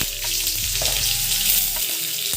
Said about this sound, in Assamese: পিঁয়াজটো অকণ ভাজি ল'ব